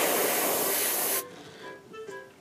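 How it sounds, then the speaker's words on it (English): A loud, steady airbrush spray of ink onto the underside of a fishing bait hisses for just over a second, then cuts off sharply, leaving faint background noise. "spray the bottom side of this bait"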